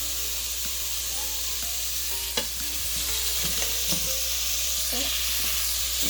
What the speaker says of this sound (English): I'm stirring.